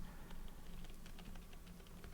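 Keyboard fitted with Kailh Deep Sea switches being typed on, a quick run of soft, faint key clacks in an uneven rhythm over a steady background hiss.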